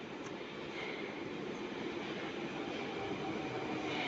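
A train at a Moscow metro station platform on the Solntsevskaya line rumbles steadily, a continuous rolling roar of wheels and cars, close and loud without any speech.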